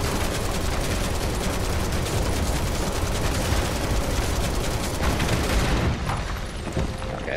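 Rapid, continuous gunfire in the Final Fantasy 7 Remake video game rattles loudly for several seconds in a dense, unbroken stream, easing slightly near the end.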